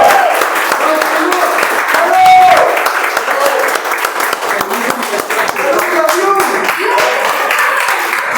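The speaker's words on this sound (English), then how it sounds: "Huge round of applause for our test speaker for the contest" An audience at a Toastmasters contest award ceremony breaks into sustained applause, a dense steady roar of clapping from a room full of people, with a voice speaking over it.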